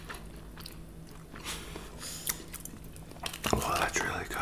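Close, quiet biting and chewing on a kebab wrap of meat, pickled onions, garlic yogurt sauce and fries, with soft crunchy mouth sounds and occasional whispered talk.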